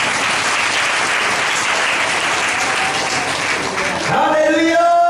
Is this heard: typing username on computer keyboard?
no